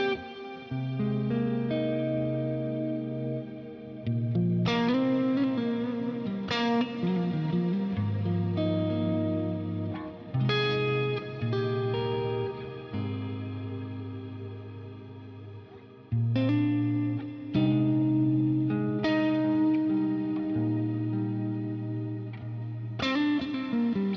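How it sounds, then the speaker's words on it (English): Electric guitar chords ring out through a lush, washy cloud-style reverb from a Fractal amp modeler, each strum swelling and trailing into a soft, cloudlike tail. "if you wanted like a cloud sort of reverb"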